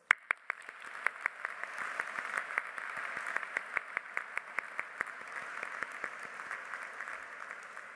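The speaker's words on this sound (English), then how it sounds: "So let's give them a round of applause." A graduation ceremony audience gives a round of applause for the graduates' families, a sustained crowd clapping with a few sharp near claps standing out, moderately loud and without speech.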